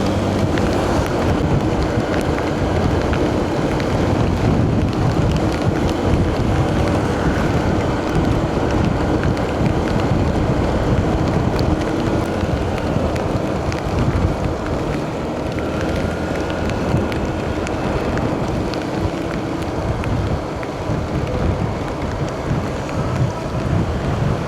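Heavy monsoon rain pours during a ride along the Gapan-Olongapo Road, a constant roaring hiss mixed with wind buffeting the microphone, steady and loud without pause.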